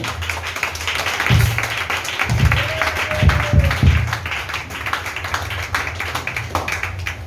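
A church congregation claps and cheers in praise, with sustained applause and crowd noise throughout and a few louder bursts of clapping near the middle.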